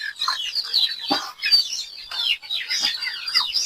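Backyard chickens cluck and chirp nearby in a steady, overlapping flurry of calls, with a few sharper squawks standing out and no talking.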